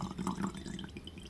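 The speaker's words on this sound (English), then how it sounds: "I'm going to try and put this biodiesel into this jar without making a huge fucking mess." Biodiesel poured from a container into a jar, a short liquid gurgle with small splashy drips and glugs, close and fairly quiet, with no talking.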